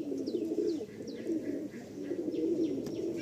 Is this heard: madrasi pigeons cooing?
yes